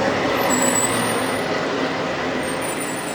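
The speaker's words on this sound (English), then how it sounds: "trash truck." A garbage truck passes outside, a loud steady engine rumble with a hiss like air brakes, continuous and fairly close with no speech.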